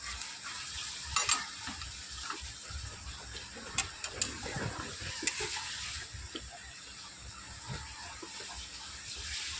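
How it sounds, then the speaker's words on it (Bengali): Prawn pakora fritters frying in oil in a pan, a low soft sizzle with occasional clinks and scrapes of a utensil turning them, fairly quiet and close. "এভাবে বড়া ভেজে খাবেন আপনারা"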